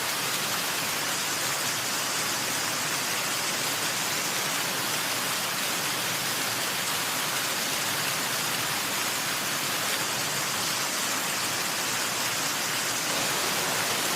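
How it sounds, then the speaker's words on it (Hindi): A waterfall at Keleshwar Mahadev pours down from a hillside in a dense, even roar of falling water that holds steady for the whole stretch, close and loud, with no voices over it. "काफी अच्छा झरना है यहाँ पे"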